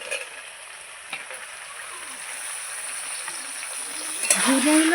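Ridge gourd pieces dropped into a pan of potatoes and spices, frying with a steady soft sizzle and a louder burst of crackle and stirring near the end.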